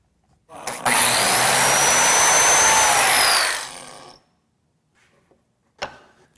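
A biscuit joiner whirs up and cuts a slot into a wooden board, a loud, high motor whine lasting about three seconds before spinning down, followed by quiet and a short clack near the end.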